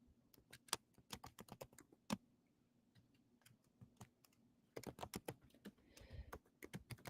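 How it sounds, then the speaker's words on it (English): Quick bursts of key clicks from a computer keyboard being typed on, irregular clusters of taps with short pauses, fairly close but quiet. "Just typing out these names, you know, keep adding them in"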